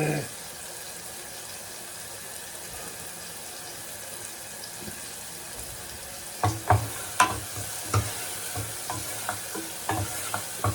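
A Jamaican-style garlic sauce bubbles in a pot with a steady low sizzle, then a spoon stirs it in a run of rhythmic scraping strokes through the second half, close and fairly loud, with no voices.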